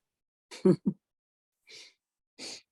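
A person sneezes once up close, followed by a couple of soft breathy exhales.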